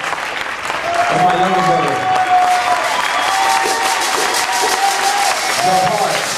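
Audience applause with some cheering at a live concert at the Humbolt BoatHouse, a loud, steady wash of clapping that fills the clip while a voice speaks over it.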